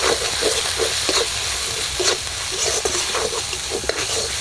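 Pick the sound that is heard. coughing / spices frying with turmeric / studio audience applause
spices frying with turmeric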